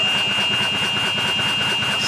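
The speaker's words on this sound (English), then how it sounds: "other times, I'll give you an example here, it just takes a little while to start." A small engine on a golf cart conversion chugs loudly and close in a steady, rapid rhythmic throb as it labors to start and catch.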